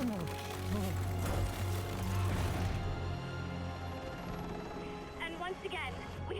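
Helicopter in the Spider-Man PS4 video game, a steady droning rotor hum running under game sound effects and speech throughout.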